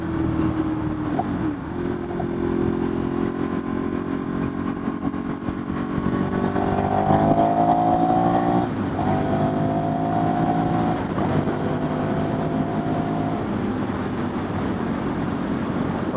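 A Ducati Streetfighter motorcycle being ridden on a road, a steady loud engine drone with rising and falling gear tones and wind rush throughout.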